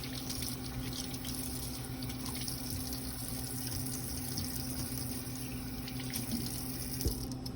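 Cold water runs from a tap into a sink during a kitchen sanitation routine, a steady, even splashing rush that continues unbroken throughout with no voices.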